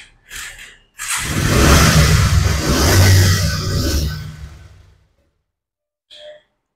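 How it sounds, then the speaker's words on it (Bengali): A Bajaj Pulsar 150 cc motorcycle engine starts with a short burst, then revs loud and close for about four seconds before cutting off, with a faint brief noise afterward. "দেখতে পাচ্ছেন ইঞ্জিন সাউন্ড কিন্তু কত স্মুথ।"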